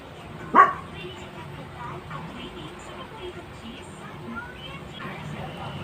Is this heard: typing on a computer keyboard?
no